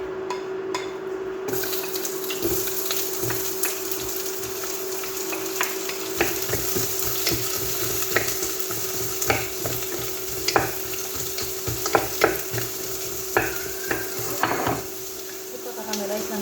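Onion sizzles as it sautés in a pan for crab and cauliflower soup, a continuous close frying hiss with scattered scrapes and clinks of a utensil stirring against the pan.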